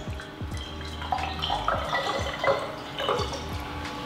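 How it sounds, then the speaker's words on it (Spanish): Purified water poured slowly through a funnel into a bottle, a steady close trickle with small drips and gurgles running the whole time, no voices over it. "Lo siguiente será llenar nuestra botella de agua purificada. Puedes utilizar un embudo e ir echando poco a poco el agua a tu mezcla."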